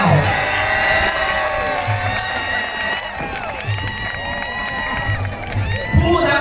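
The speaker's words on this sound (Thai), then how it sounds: "เสียงปรบมือให้กับคุณบูรพาคำเขื่อนแก้" A crowd cheers and claps over background music at an outdoor historical drama performance during the 2024 King Narai festival in Thailand, with a steady wash of applause and occasional shouts throughout.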